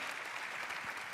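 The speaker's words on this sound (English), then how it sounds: "That definitely deserves an applause." Brief audience applause at the America Business Forum 2025, a dense even wash of clapping from a large crowd, moderately distant and steady throughout.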